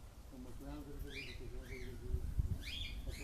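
Lovebirds chirp in short, rising and falling tweets that come in a few scattered bursts, fairly faint, over low background rumble and someone talking.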